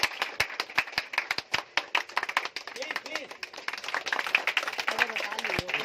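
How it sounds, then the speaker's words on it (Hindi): Audience applause at a Sunday sales seminar in a village setting, a crowd clapping in an uneven burst with distinct sharp claps standing out, fairly faint and accompanied by voices near the end. "एक बार जोरदार ताली फिर से दोस्तों"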